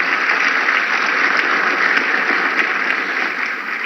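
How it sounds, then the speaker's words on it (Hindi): A large audience applauds Prime Minister Narendra Modi at a Rising Northeast event, a steady, dense wash of clapping that holds throughout, with a few sharper individual claps standing out. "आप सबकी करतल ध्वनि के साथ, आपकी तालियों के साथ"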